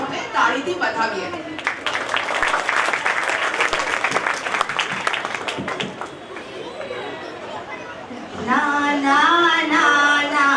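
An audience applauds children at a Paryushan cultural programme put on by a pathshala in Ghatkopar, steady clapping with crowd chatter, then children's voices begin singing near the end.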